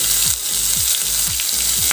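Finely chopped green chillies frying in hot oil with mustard seeds and asafoetida for tempering, a loud, close, steady sizzle with rhythmic pops and stirring scrapes.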